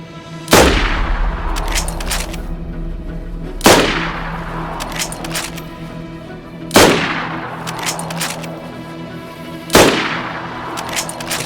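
Four loud, sharp gunshots spaced about three seconds apart, each with a ringing decay, fired at zombies in the survival video game DayZ, in a polar setting, with no talking.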